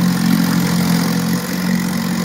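A 1962 Evinrude 5.5 outboard motor runs steadily with a loud, close, even droning hum and no talk.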